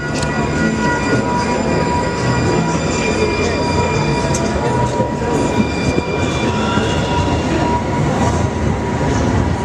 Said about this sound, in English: Uh-oh. Train coming.